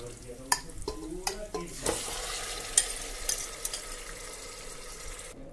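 Marinated mutton going into a pot with onion for a traditional korma, a steady close sizzle broken by clattering spoon strokes and stirring knocks against the pot.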